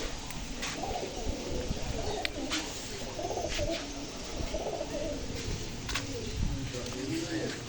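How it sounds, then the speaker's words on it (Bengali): Pigeons coo softly in a zoo enclosure, low repeated burbling calls close by, with a few sharp clicks and rustles among them and a person talking over the birds at times. "আর এখানে কবুতর আছে,"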